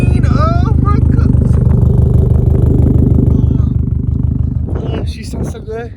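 Tomei Expreme Ti titanium exhaust on a Subaru WRX/STI, a loud close rumbling burble with a steady low pulse that fades toward the end, with a person talking over it.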